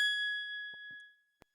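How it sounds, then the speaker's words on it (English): A single bright bell ding rings out clearly and decays slowly over about a second, with a couple of faint soft knocks beneath it and silence at the end. "I love how the bell came up"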